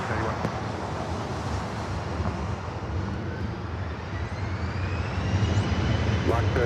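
A SkyWest jet taking off from runway 24 Left at Los Angeles International Airport, a broad, steady engine roar rising slightly toward the end, heard from a distance under faint radio chatter.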